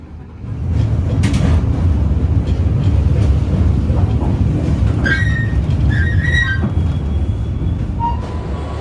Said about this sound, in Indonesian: Perjalanan kereta api Sri Tanjung sekarang ini tiba di stasiun Rambi Puji